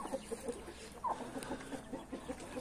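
A flock of chickens clucks steadily at moderate distance, repeated short clucks in an uneven rhythm over a continuous farmyard background.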